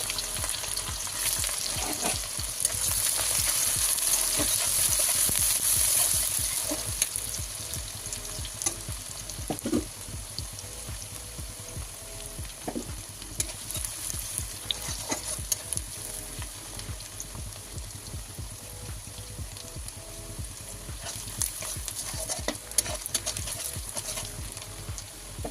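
Chopped garlic sizzles and fries in hot oil in a pan over a low flame during home cooking of fish patties, a continuous crackling hiss with occasional stirring scrapes, louder at first and then settling.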